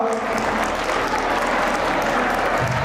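Loud, steady applause from a crowd at a school annual function, many hands clapping evenly and close throughout.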